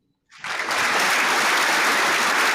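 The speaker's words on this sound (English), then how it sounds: "We've got clapping." Clapping sound bite: after a brief silence, a burst of dense applause starts abruptly and holds at full, steady loudness until the end.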